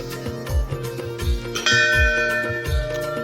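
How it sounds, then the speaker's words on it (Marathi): A temple bell at a Ganesh temple rings repeatedly in a steady rhythm, each loud metallic strike followed by a ringing decay, with a brighter high bell tone joining partway through. "आधीच घंटा वाजवलेला आहे"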